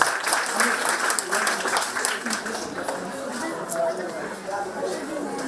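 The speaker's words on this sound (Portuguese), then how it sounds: "Aplauso para FC Pro SUAX" A crowd at a community centre's anniversary ceremony applauds the FC Pro SUAX youth football team, a sustained, dense clapping of many hands at moderate volume, with voices chattering beneath it.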